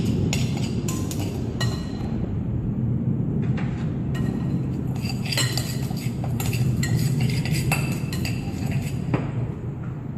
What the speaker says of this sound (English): Add in the castor sugar and stir well, clockwise and anti-clockwise, so that the sugar will be evenly distributed.